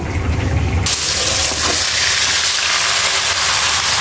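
Whole spices — cardamom, cloves and cumin — dropped into hot oil erupt in a loud, steady sizzle that holds without a break and swells brighter after the first second, as a chicken curry is started.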